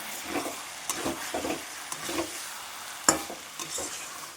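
Kabuli chickpeas fry in mutton fat in a pan with a soft, steady sizzle, while a utensil scrapes and stirs them in repeated strokes and one sharper clink stands out.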